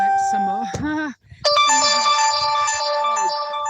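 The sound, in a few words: phone notification ringtone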